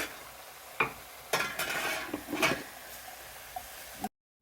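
A lid lifted off a pan of steaming cooked radish namul: a short clack, then a few soft hissing bursts of steam and faint sizzling before the sound cuts off.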